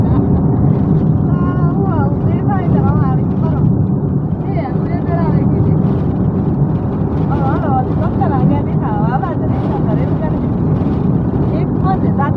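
Car driving on a road near the India-Pakistan border close to Tanot, a loud steady engine and road rumble throughout, with people talking inside over it.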